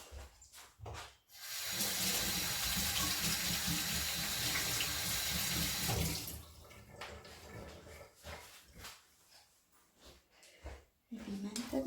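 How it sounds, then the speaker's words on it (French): Hands washed under a running kitchen tap while making homemade flaxseed shampoo: a steady rush of water for about four seconds, then clinks, handling noises and a voice speaking. "On lave encore la main."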